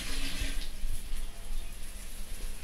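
Running water splashes steadily from a tap as hands are rinsed in a home kitchen, a soft continuous hiss with faint irregular splatters, no talking.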